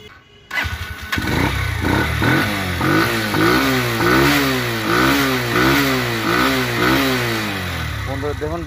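A Discover or Kewway 100cc second-hand motorcycle starting up, then revving repeatedly in rising and falling surges, loud and close, with the engine idling steadily between revs.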